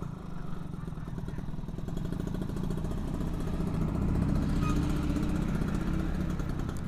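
A Yamaha Fiz R motorcycle on its standard exhaust runs steadily close by, a continuous low engine drone that swells slightly in the middle. No voices are heard.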